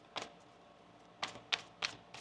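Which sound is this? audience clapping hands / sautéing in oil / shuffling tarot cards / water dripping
shuffling tarot cards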